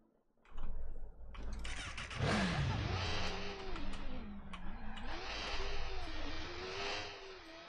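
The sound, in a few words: motorcycle engine in video game Watch Dogs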